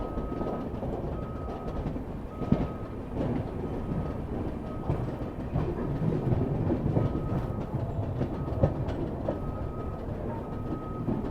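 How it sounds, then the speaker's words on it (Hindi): The Gomti Express rolls out of Pankidham railway station in dense fog, a steady loud rumble of wheels on track with faint clickety-clack and rattling carriages, no voices. "डिपार्चर हो चुका है पंकीधाम रेलवे स्टेशन पे।"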